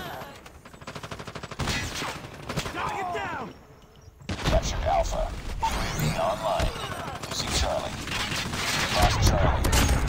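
Rapid bursts of automatic gunfire in a first-person shooter video game, loud and close, with a brief lull midway before the firing resumes, mixed with game voice callouts.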